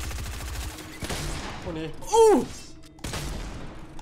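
Gunfire in the battle royale game Fortnite: bursts of rapid shots crackle through most of the clip with a brief pause and a sweeping tonal effect in the middle, while a voice speaks briefly over it.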